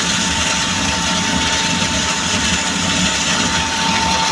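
A loud grain mill motor, grinding chicken feed, runs at a constant, steady drone with a low hum and a faint high whine, no voices present.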